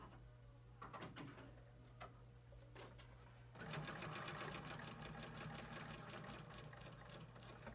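Sewing machine stitching a ribbon double welt pocket, a quiet start-stop whir with small clicks at first, then a steady, louder run of rapid stitching from midway to the end.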